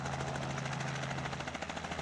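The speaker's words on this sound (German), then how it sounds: "Der Hubschrauber ist auf der Piste gelandet." A helicopter landing on a runway, its rotor thumping steadily with a droning engine whine, fairly faint and unbroken throughout.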